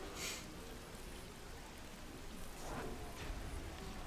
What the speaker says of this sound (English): Freezing Rain does come in.